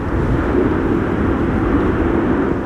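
An airliner landing at Amsterdam Schiphol Airport during Storm Amy, a steady, loud, low rumbling roar of engines and wind that persists evenly without talk.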